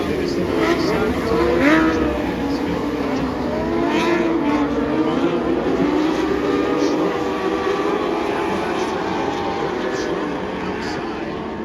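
Dwarf race cars roar around the Bakersfield track during the KCRP dwarf car nationals Sportsman main event, a continuous blend of engines heard from a distance with pitch shifts as they take the turn, under a public-address voice.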